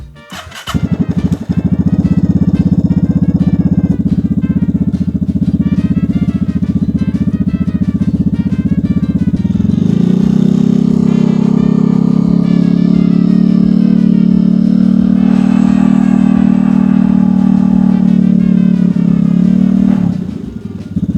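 A Vespa scooter fitted with a cold air intake runs loud and steady at idle, a continuous low engine drone with some mechanical clatter that settles into a deeper, smoother tone midway through.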